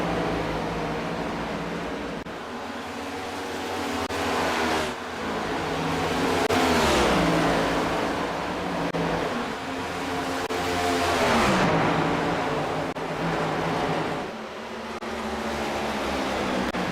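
Stock race cars circling Kansas Speedway in iRacing roar past in waves, engines droning loud and steady with rising and falling pitch as cars run side by side down the back straight.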